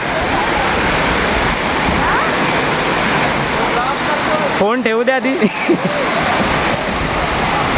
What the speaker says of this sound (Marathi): पाण्याचा आवाज बघा मस्त खळखळ वाहणारं पाणी आणि धबधब्याची पावसात घेतलेली मजा